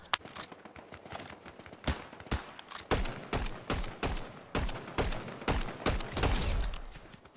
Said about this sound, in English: This is like a rifle. It's an SMG, though.